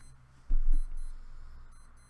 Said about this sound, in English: There's an alarm going off in here